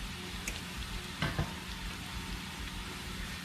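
Onions and garlic frying in a pan for a spicy Chinese chilli garlic sauce, a soft steady sizzle close by with a brief stir or scrape partway through, no talk.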